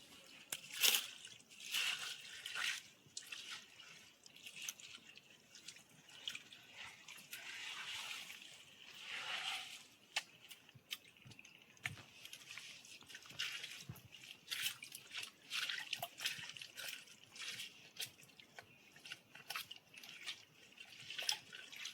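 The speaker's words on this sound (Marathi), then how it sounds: "दगडाच्या एकदम फटीमधून येतो पाणी." Faint, continuous trickling of cold water from a rock crevice, with irregular drips and splashes, quiet and close, no voices, in jungle on Shrivardhan Fort.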